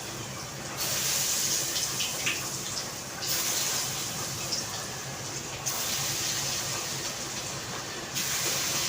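Pakoras frying in hot oil at home, a loud, continuous hiss and crackle that swells and settles in waves.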